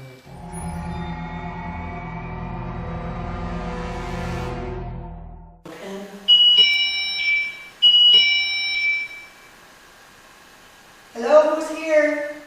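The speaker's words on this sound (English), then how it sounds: "Do you guys hear that beep right now?" An electronic alarm beeps in a rec room at an old manor during a nighttime investigation, a sustained tone giving way to several sharp repeated beeps while people talk nearby.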